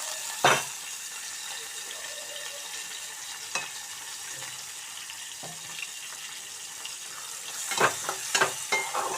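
Cleaned dried shrimp frying in a pan, giving a low continuous sizzle with a few sharp stirring clacks and a cluster of scraping strokes near the end, no talk.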